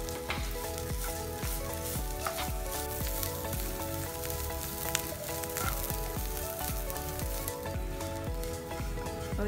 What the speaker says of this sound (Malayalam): ഇതെല്ലാം കൂടി നമുക്ക് ബ്രൗൺ കളറിൽ, ഗോൾഡൻ ബ്രൗൺ കളറിൽ വറുത്ത് കോരണം